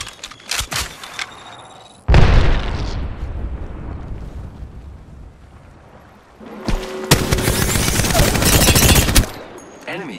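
Bursts of rapid gunfire from an Apex Legends match, loud automatic volleys with booming impacts, a quieter stretch between, then another long sustained barrage near the end.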